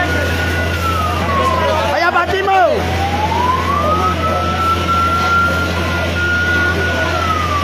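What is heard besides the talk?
fire truck siren arriving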